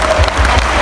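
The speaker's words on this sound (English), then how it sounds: "Big round of applause to all the star diamonds." An audience at a corporate evening event bursts into brief, dense applause, a loud close wash of clapping hands that fills the short moment.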